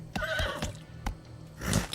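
A horse whinnies in a short advertisement sound effect, a bright quavering neigh with a few sharp hoof-like knocks around it, close and loud over about two seconds.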